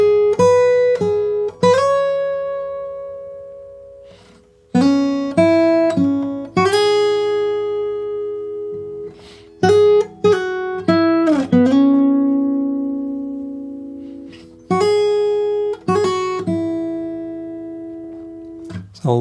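Solo guitar playing a chord melody arrangement of a song, decorated with hammer-ons, pull-offs and slides; plucked chords and single notes ring out and decay in a gentle, rubato phrase, close and clear with no talking.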